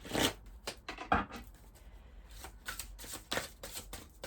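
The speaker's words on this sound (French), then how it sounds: "on va prendre quelques cartes du tarot des fées" Fairy tarot cards being shuffled by hand, a series of soft, quiet riffling and sliding bursts at an uneven rhythm, close and alone without speech.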